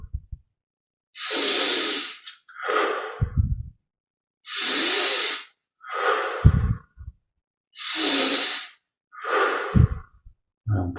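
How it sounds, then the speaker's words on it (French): Slow, deep breathing during a guided yoga meditation, each long hissing inhale through the nose followed by an exhale through the mouth, repeated several times at close range with quiet pauses between breaths. "on prend 20 grandes respires. Inspire par le nez,"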